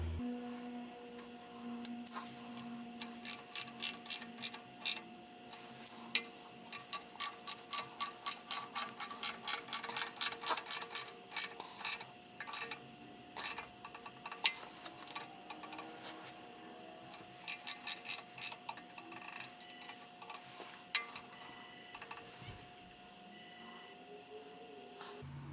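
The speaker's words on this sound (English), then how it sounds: "Okay, now we got them all torqued down." Rapid ratcheting clicks come in repeated bursts as a torque wrench tightens bolts to about 10 foot-pounds on a Ford tractor water pump, with short pauses and quiet mechanical handling between runs.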